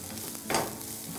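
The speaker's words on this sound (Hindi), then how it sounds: "अनियन को हल्का सा सौते करेंगे हम." Onions sauté gently in a pan for a shakshuka, a soft, low sizzle with one brief stirring swish partway through.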